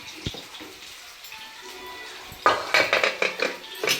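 Pots and utensils clatter as a pot of chicken biryani cooking on dum is checked: a low steady background hum, then a run of close metallic clinks and scrapes in the last second and a half.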